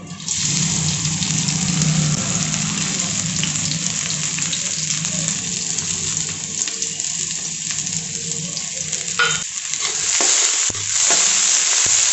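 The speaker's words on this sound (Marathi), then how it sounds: "कांदा बारीक चिरलेला आहे, तो आपण तेलात टाकून घेऊ।" Finely chopped onion frying in hot oil in a kadai gives a loud, steady sizzle that runs throughout, with brief clatters of stirring near the end.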